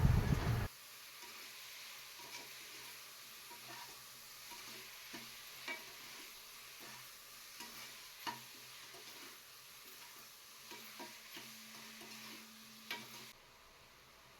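Mushrooms and ginger garlic paste are stirred in a pan for mushroom biryani, giving faint, steady frying with light, irregular scrapes and taps of a utensil, close and quiet.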